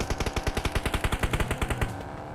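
Rapid automatic gunfire in PUBG Mobile, a burst of around twenty evenly spaced, punchy shots fired close and loud over two seconds, then stopping, with no talking.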